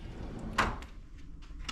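A drawer in an Ibis hotel room near Brisbane Airport, Queensland, slides with one short, close knock, followed by faint clatter in a quiet room.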